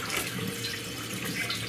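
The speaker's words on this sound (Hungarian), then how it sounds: "Vizet, meleg vizet öntök köréjük." Warm water pours steadily into a pot around jars of homemade yogurt, a continuous close splashing stream with no voices.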